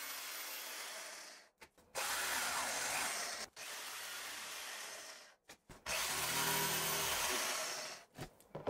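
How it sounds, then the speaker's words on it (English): A jigsaw fitted with a metal-cutting blade cuts a workpiece in several loud, sustained buzzing bursts with short pauses between them, close up and with no talking. "I now use the jigsaw to finish the cuts."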